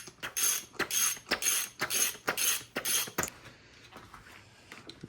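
A wrench works a fuel system fitting, with a run of about seven quick ratcheting bursts in a steady rhythm that give way to faint, scattered mechanical clicks.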